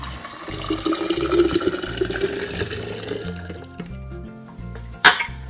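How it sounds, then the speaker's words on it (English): Boiled water poured into a jar for making kombucha tea, a rising splashing fill that climbs in pitch over several seconds, then a brief sharp clink near the end. "I'm going to pour into the jar."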